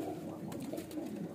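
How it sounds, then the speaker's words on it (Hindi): Baby pigeons cooing softly in a loft, low rounded burbling calls close by with no talk. "लॉट में आप देख सकते हैं बेबी पिजन, ये भी बिल्कुल ही एक्टिव है।"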